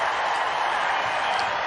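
Louisville basketball fans in an arena cheer and applaud as a dense, steady roar of crowd noise with no pauses.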